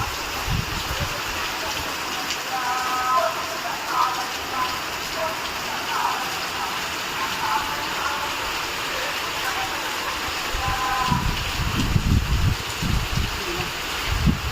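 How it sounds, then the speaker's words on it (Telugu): Heavy evening rain pours down in a steady dense hiss, with louder drumming patches near the end. A voice talks faintly beneath it. "ఆ వర్షం చూడండి ఫుల్ వస్తుంది."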